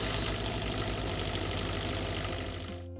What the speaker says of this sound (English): There might be a brief delay before the generator motor starts.